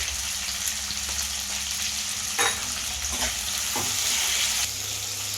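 Paneer masala roasting in a pan with a continuous sizzle and frying crackle, punctuated by a few distinct scraping strokes of a stirring spoon.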